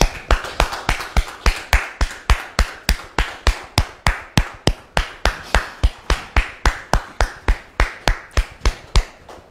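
Studio audience applause welcoming a guest on a French-language talk show, heard as a loud, regular rhythm of sharp distinct claps, about three per second, continuing steadily for nearly ten seconds with no talk.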